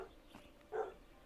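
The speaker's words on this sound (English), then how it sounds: "So, got dogs barking." A dog gives a single short bark, faint and distant, against a quiet background with a soft yelp just before it.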